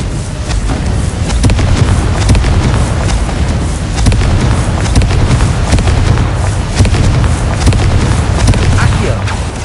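In the Hogwarts Legacy video game, a Confringo blasting spell sets off loud, dense explosive booms and crackling bursts that pound on continuously with no break for the whole stretch.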